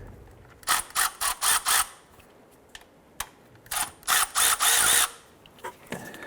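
A ratchet wrench breaks bolts free on a 2009-2015 Honda Pilot engine during a timing kit and water pump job, sounding in quick bursts of rapid clicking, two longer runs and a few single clicks, close and crisp.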